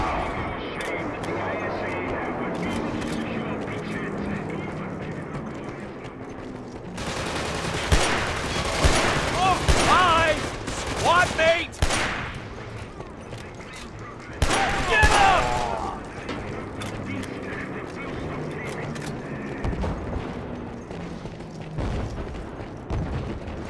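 Bursts of automatic gunfire and booms in the first-person shooter Killzone 2, two heavy stretches of rattling fire and explosions amid a continuous battle din, with a voice talking at times.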